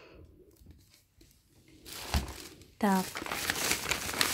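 A plastic packet, holding a Japanese shampoo with argan oil and coconut, crinkles and rustles as it is handled and opened. The sound comes up close and loud in the second half, under a person's speech.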